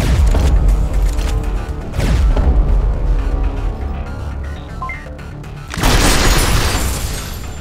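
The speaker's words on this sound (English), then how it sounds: "Goodbye, flash grenade." A flash grenade goes off in the video game Synthetik, a loud booming blast over a dense, continuous rumble of combat noise, with a second sharp burst toward the end.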